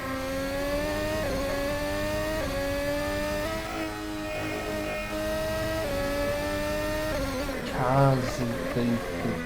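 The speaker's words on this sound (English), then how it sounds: "Cars, they sound like they're on the edge of certain gears that they don't want to be in" Race cars in a racing video game, during an online series round at an Australian circuit, whine steadily at high revs with engine tones shifting as gears change, a brief louder burst near the end, and commentary running faintly underneath.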